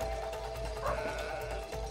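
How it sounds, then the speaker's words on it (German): Sheep bleating inside the video game It Takes Two, a single clear bleat rising over steady game music with a low background hum, loud and close throughout the short moment. "Schaf"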